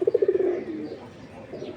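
Rapid throaty coo pulses from a red Muslodom Giribaz pigeon open the moment, close and clear, then trail off into a soft murmur and low background hum.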